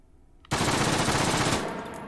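Full-auto burst from an SCX gun in the VR shooter H3VR, a dense continuous roar of rapid gunfire starting abruptly and sustained for over a second and a half before tapering, loud and close with no talk.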